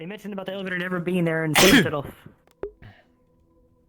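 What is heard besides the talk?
sneeze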